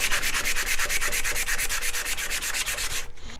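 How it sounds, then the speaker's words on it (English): Sandpaper rubs back and forth by hand across a wooden square vase in quick, even, rasping strokes, close and loud, ending abruptly after about three seconds. "This first side has now been sanded down through the grits to 600."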